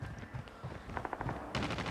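Gunfire in the mobile video game Call of Duty Mobile, a quick burst of rapid automatic shots followed by a louder volley, heard fairly faintly over a low background.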